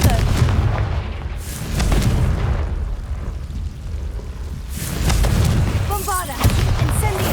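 Repeated fire-spell blasts from the Hogwarts Legacy video game boom loudly in heavy bursts, several explosive impacts with rumbling tails and crackling debris, interleaved with short spoken spell incantations.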